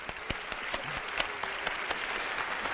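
An audience at a youth event gives scattered, fairly quiet applause, with a few sharper individual claps standing out against a soft, steady background patter.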